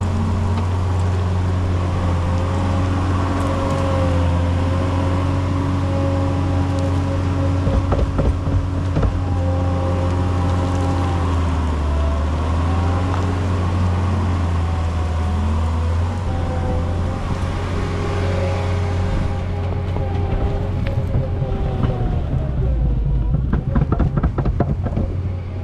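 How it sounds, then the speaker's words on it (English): A skid steer loader's diesel engine drones steadily and loudly while moving dirt for a pumptrack berm in the woods, with rising and falling revs and a hydraulic whine, the engine close and continuous throughout. "I finished moving the dirt from my rollers and the berm with the skiddy."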